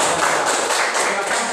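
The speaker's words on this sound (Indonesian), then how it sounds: "Oke, tepuk tangan dulu dong." Loud, dense applause from a school audience for a student group, with many hands clapping steadily and close up throughout.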